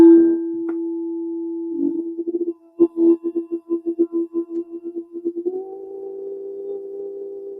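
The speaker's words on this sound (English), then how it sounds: "I have this crystal bowl that I work with, and it sounds like that." A crystal singing bowl hums with a pure, sustained ringing tone, with a run of soft rhythmic taps in the middle before the pitch shifts slightly higher and keeps singing.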